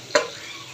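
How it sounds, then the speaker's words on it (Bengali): Amaranth stalks frying in a pan are stirred once, giving a single sharp scrape over a steady, faint sizzle that continues afterward. "ডাটাটা নাড়াচাড়া দিয়ে দিব, একটু চিনি মিশিয়ে নাড়াচাড়া দিয়ে আবার ডেকে দিব"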